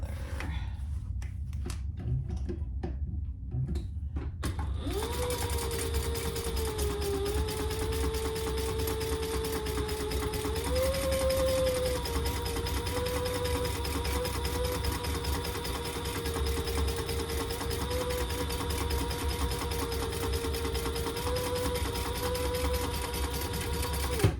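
A sewing machine runs steadily for about twenty-four seconds as tote bag pieces are sewn together, its close motor whir and rapid stitching holding an even drone with slight pitch shifts and no talking.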